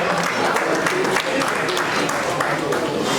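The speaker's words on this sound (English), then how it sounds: "You please give her a round of applause." A room of guests at a law class anniversary celebration breaks into a round of applause, a loud, even wash of clapping hands that holds steady throughout.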